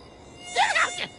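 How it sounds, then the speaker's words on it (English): Cartoon mosquitoes buzz in a short, loud, high whine that swells and wavers for about a second, with no voices over it. "The mosquitoes are eating me alive!"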